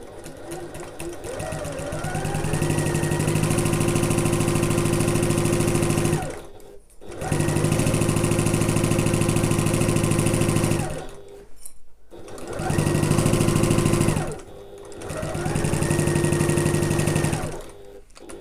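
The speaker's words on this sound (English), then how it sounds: "we're just going to sew these two together using our regular stitch length, regular seam allowance" A sewing machine joins backpack pieces at regular stitch length and seam allowance, with back stitching at start and end, running in three long, loud, close bursts separated by brief stops.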